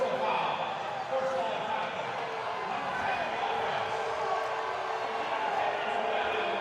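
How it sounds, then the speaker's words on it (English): Arena football crowd in Nashville jeering a horse-collar penalty flag against the Kats, a steady loud roar of disapproving voices filling the arena without a break. "you hear the jeers from the crowd, JJ"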